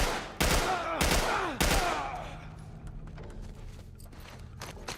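Three gunshots from a heavy-recoil gun in The Last of Us Part I, fired in quick succession with loud, sharp cracks that ring out and fade into a quiet game backdrop.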